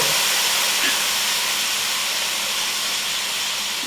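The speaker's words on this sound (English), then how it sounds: "Now we want to just deglaze the pan." Moscato wine hisses and steams as it hits a hot pan while deglazing for roasted tomato soup, a loud, steady broadband sizzle that holds for the whole stretch with no voices.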